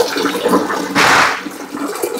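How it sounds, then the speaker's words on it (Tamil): Water pours into a large pond tank during a water change, a continuous splashing rush with a louder gushing swell partway through, fairly close, with no talk. "நீ இந்த தண்ணி ஃபில் பண்ணணும்,"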